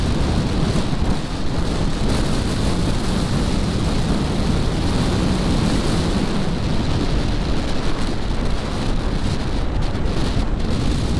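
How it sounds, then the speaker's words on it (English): Constant loud roaring wind buffeting the microphone while riding a 2020 Zero SR/S electric motorcycle, a dense low rumble that never lets up, with no voices. "that's really windy"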